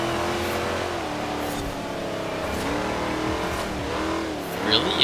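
An International Harvester truck in Forza Horizon 4 (Hot Wheels Legends) launches with a loud, continuous engine roar that rises and falls through gear changes, ending in a brief sharp squeal.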